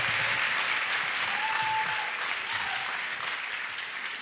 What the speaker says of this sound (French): Clap offering to Jesus.